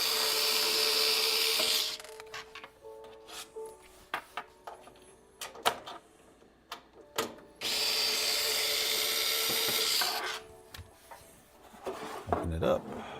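A power tool spins out screws from a 3D printed electronics enclosure in two loud sustained whirring runs, with clicks and handling clatter between them and a brief rumble near the end.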